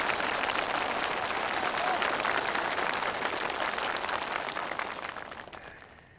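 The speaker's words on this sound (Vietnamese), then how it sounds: "Vỗ tay, hay lắm" Sustained applause from a large audience, dense and steady clapping that gradually fades toward the end.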